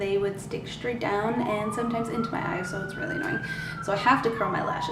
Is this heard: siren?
yes